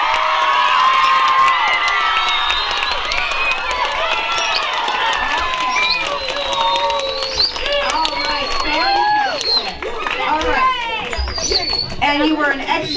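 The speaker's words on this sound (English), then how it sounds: "All right, now we can cheer wildly for everybody." An audience at a school spelling bee cheers and shouts, with children's voices yelling loudly over a dense crowd roar that stays strong for the whole stretch.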